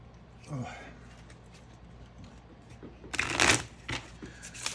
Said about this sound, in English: I'm going to shuffle the cards here for the next 4 cards